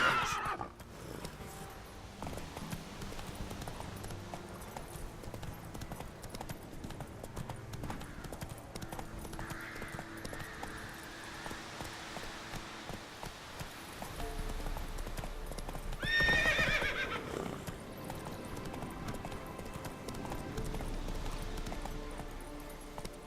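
Roach the horse galloping in The Witcher 3, a steady drumming hoofbeat rhythm running throughout with a loud neigh near the middle and ambient game sounds beneath.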